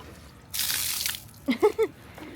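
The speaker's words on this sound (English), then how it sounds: "I'm going to be dumping some water." Water dumped from a camping tent after a storm pours out in a brief rushing splash, followed by a few short vocal grunts of effort close by.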